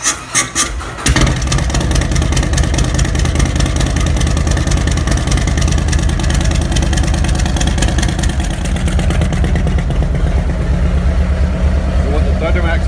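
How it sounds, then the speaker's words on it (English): A motorcycle on a Thundermax tune fires up after a brief crank and settles into a loud, steady, close idle with a continuous throbbing rumble that runs on without pause. "So we're going to fire it up here and let it do its initial idle tune"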